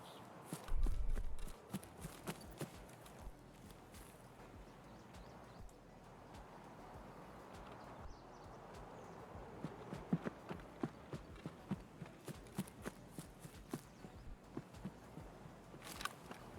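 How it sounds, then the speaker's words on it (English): Enemy player footsteps in the shooter game Escape From Tarkov, a quiet run of regular steps and clicks against a low rumble, with a louder thud near the start. "Now that I heard their footsteps going the opposite direction"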